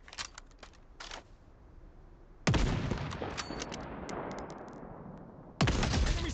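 Gunfire in the battle royale video game Farlight 84, sharp bursts of rapid shots starting abruptly, a long volley then a quieter gap before another loud burst, close and punchy.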